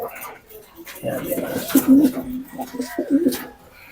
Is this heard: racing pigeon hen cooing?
yes